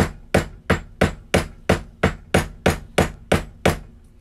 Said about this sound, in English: I get my hammer, and I go like this.